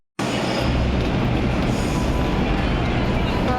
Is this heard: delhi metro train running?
yes